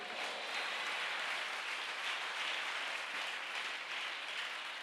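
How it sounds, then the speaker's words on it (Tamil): A church congregation in Chennai claps together in a sustained, even burst of applause. The steady, dense clapping carries through the whole stretch with no talking over it. "என்ன விசுவாச கைத்தட்டு"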